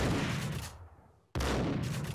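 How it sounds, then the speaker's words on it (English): Loud bursts of gunfire from the PC game Max Payne fill the moment, a dense fusillade that fades briefly before another sharp volley cuts in abruptly. "Of course, there's more people shooting."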